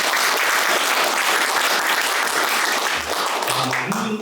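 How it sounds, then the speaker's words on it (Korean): Loud, sustained applause from a seated ceremony crowd opens the launch ceremony of the Daejeon chapter of the General Hong Beom-do memorial society, steady clapping throughout with no break. "지금부터 홍범도 장군 기념사업회 대전 모임 발족식을 큰 박수로 시작하겠습니다."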